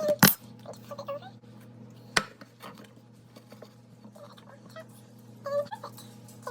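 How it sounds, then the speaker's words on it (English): A cake pan with a plate on top is flipped over, making a sharp metallic clank at the start, another clunk a couple of seconds later and lighter clinks near the end, over a quiet low hum. "So now the plate is on top of the pan. I'm going to flip it over."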